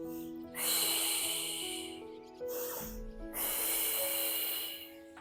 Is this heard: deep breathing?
yes